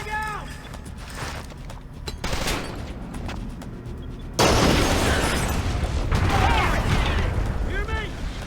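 A thrown frag grenade goes off in Splinter Cell Conviction, a sudden loud blast midway that leaves a sustained roar of gunfire and battle noise, with game voices heard before it.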